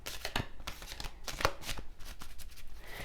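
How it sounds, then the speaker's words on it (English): A tarot deck is shuffled for a weekly reading, the cards riffling and slapping in a steady run of crisp bursts, close and alone with no talk. "Some shuffling for Cancer for this upcoming week."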